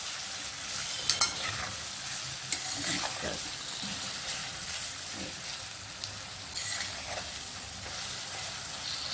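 Peeled eggplant for bharit is dropped into a hot pan and sizzles. A bright, close hiss holds steady over several seconds, punctuated by a few sharp clatters and stirring scrapes, with no speech.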